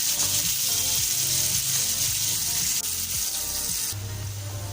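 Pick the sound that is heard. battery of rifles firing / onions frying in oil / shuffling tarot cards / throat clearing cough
onions frying in oil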